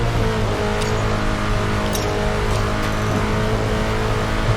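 Race car engine in the mobile racing game Racing Master roars continuously at top speed, with a loud, steady drone and no talking.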